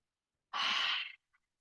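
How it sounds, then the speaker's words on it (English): A single close breath drawn in during a guided physical exercise session, a soft airy rush lasting under a second, heard alone in quiet with a tiny faint click just after. "breathing in"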